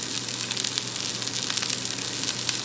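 Potato skins frying in hot oil, a steady, loud, dense sizzle and crackle close by that continues without pause.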